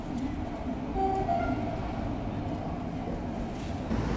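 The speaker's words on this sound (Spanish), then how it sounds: "El ferrocarril toma el lado izquierdo de la ría para proseguir su marcha." A Euskotren train on the Urdaibai line in the Basque Country rumbles steadily along the rails beside the estuary, a low continuous roll with faint higher tones drifting over it, moderately distant.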